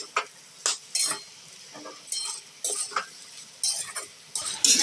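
Potato bhaji with chopped coriander being stirred in a pan, a spoon scraping in a series of short, close strokes over a soft background sizzle, with no talking.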